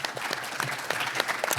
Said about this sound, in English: Yeah, you can clap it up for that.